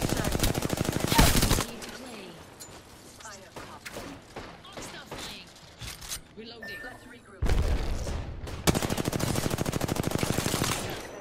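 Bursts of automatic gunfire in the Apex Legends battle royale, loud rattling volleys at the start and again near the end with sporadic shots between, while players talk over the action.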